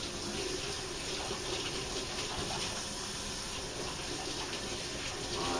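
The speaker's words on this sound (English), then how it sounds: "I want to rinse my hands really quickly" Running tap water pours steadily in a kitchen sink while hands are rinsed, a continuous close splashing rush with no talk.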